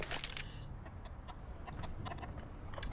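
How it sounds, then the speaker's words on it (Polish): Chickens in the Counter-Strike video game cluck in a few short, nearby bursts, strongest at the start, then scattered fainter clucks over a steady game background. "I tu kurczaki zdarzą jajka."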